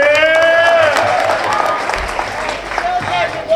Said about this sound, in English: Clap it up for him, clap it up.